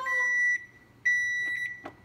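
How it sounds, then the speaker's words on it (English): A kitchen timer beeps while bacon is being cooked, giving two long, bright electronic tones separated by a short pause, followed by a few faint clicks and knocks in a quiet room. "Put that timer on, I will never remember."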